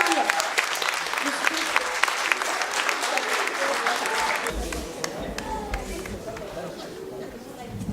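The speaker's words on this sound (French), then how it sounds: "Merci de l'applaudir encore une fois" Applause at a university graduation ceremony for a graduate receiving a management degree, loud clapping from a hall audience that thins and softens toward the end, with some chatter mixed in.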